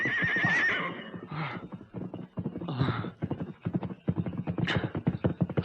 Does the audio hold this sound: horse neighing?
yes